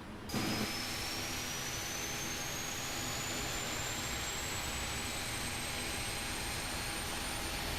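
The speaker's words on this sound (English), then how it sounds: "Engine is spooling." Boeing 777-300ER jet engine spooling up in a flight simulator, a steady broadband roar with a slowly rising whine climbing in pitch throughout, sustained and continuous with no talk.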